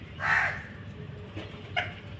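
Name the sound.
sparrow visiting in the morning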